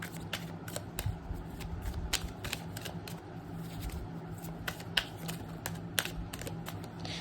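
Tarot cards being shuffled by hand in a fumbling, uneven way, with a steady patter of soft riffles and sharp snaps, close and moderately loud, with no talking.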